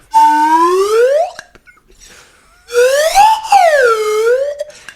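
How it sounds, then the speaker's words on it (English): A solid steel slide whistle swoops up and down in two long, loud glides, with a short pause between them. "solid steel craftsmanship that sounds like this"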